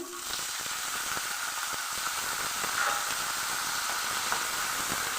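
Slit green chilies and chopped spring onion leaves fry in a pan with a steady, close hiss and sizzle, faint crackles throughout, no voices.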